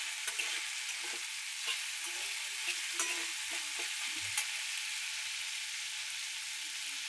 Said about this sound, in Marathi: थोडी मोहरी टाकली, जिरे टाकलेत बघा तुम्ही पाहू शकता.